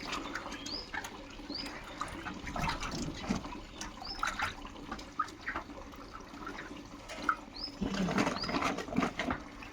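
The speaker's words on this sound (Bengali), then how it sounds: "এই যে আমাদের নারকেল ধোয়া প্রায় শেষ" Market-bought coconuts washed by hand in water, with steady splashing and sloshing throughout and some louder bursts near the end; birds chirp faintly in the background.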